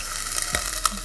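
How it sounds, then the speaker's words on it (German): Glassy onions sizzle in a pan as broth is added for vegan gluten-free köttbullar, a close, steady hiss of frying with a few small pops and clinks. "Das brutzelt."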